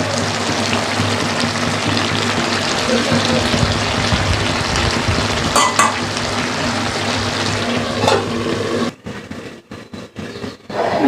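Hilsa fish heads fry in hot oil with a loud, steady crackling sizzle and occasional stirring scrapes, which thin out and drop away near the end.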